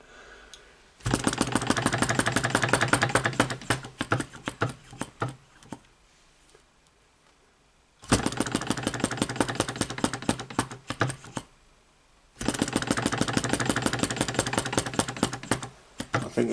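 Small flame licker model engine runs in three bursts of rapid, even mechanical ticking and chuffing, close and loud, with quiet gaps between runs.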